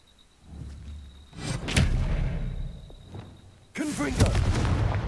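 Expelliarmus disarming spell cast in Hogwarts Legacy, a sudden whooshing burst followed by a booming impact, with a second loud blast near the end amid battle noise.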